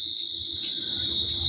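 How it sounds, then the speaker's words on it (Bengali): Crickets trill in a continuous, steady high drone at night in Jaldapara forest beside a jungle resort, close and loud, with faint rustling underneath and no voices. "আশা করি ঝিঝি পোকার ডাক শুনতে পাচ্ছেন।"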